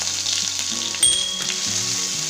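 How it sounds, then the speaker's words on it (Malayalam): Crushed ginger and garlic hitting hot oil in a pan while cooking soya chunks, a loud steady sizzle that flares briefly as they are stirred, close by and with no talking. "ഈ ഒരു സമയത്ത് നമുക്ക് ഇഞ്ചിയും വെളുത്തുള്ളി ചതച്ചതിട്ട് കൊടുക്കാം."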